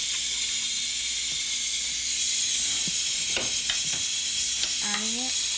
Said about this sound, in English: we're gonna add the rice to our okras and our meat.